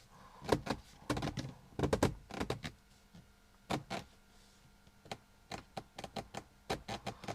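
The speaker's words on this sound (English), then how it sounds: "I think it's definitely creaking between this piece and the piece here." Wooden dashboard trim on a Rolls-Royce Silver Spirit, creaking and clicking in short irregular bursts of sharp ticks and knocks, close and fairly quiet, with brief pauses between clusters.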